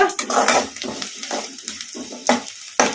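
Onions frying and being stirred in a pan over a medium flame, a soft sizzle with scraping stirs running under talk.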